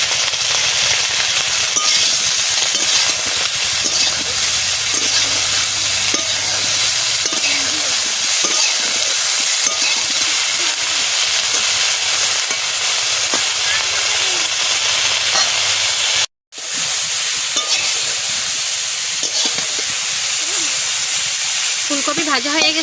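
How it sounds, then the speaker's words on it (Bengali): Cauliflower pieces fry in hot oil with salt and turmeric, making a loud, continuous sizzle and hiss with scraping stir noises throughout and one abrupt brief cutout partway through. "ফুলকপি ভাজা হয়ে গেছে, তুলে দিচ্ছি।"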